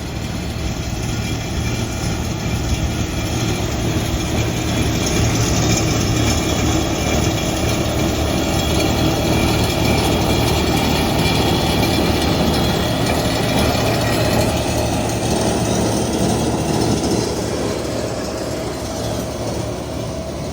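A tractor (828) with a topper mowing a field: a loud, steady engine drone with rumbling low-end and mechanical rattle running without pause, fairly close.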